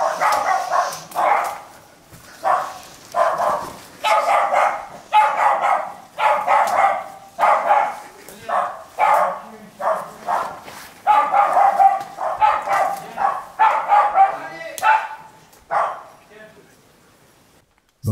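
Two big mastiff-type dogs, walked past a courtyard by a neighbour, bark in a loud, rhythmic series of repeated barks nearby for the whole stretch.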